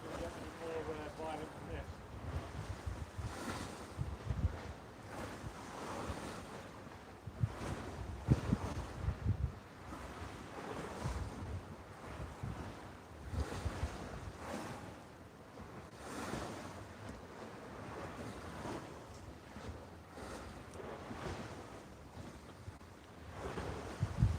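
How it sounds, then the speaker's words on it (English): Gentle sea waves lap against the sea defences at Gynn Wall in Blackpool, a soft repeated wash of surf under steady wind noise, with occasional faint voices. "The gentle waves lapping against the sea defences."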